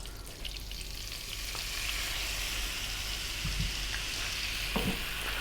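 Butter melts in a saucepan for a mac and cheese sauce, with a continuous close sizzle and a few light knocks, like a utensil against the pan.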